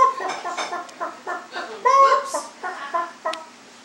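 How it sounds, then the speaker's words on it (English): A hen clucks in a farmyard animal setting, giving a run of short, close, choppy clucks with a louder burst near the middle. "Hen and chick."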